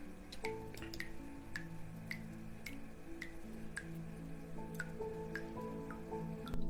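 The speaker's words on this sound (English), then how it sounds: "The faint sound of water dripping from a rusted pipe echoes, amplifying their isolation." Water drips steadily from a rusted pipe in a dark, echoing space, each drop landing as a sharp, reverberant plink at an irregular pace over a faint low hum, with no voices present.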